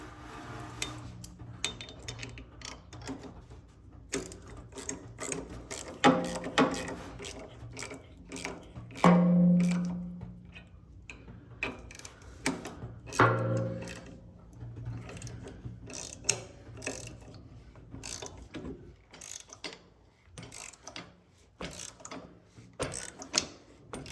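Bolts are tightened on a Ferguson tractor's 3-point position control, giving scattered ratcheting clicks and metallic clinks over a longer stretch, with a few louder knocks and rattles.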